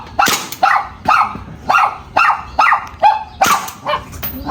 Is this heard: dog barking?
yes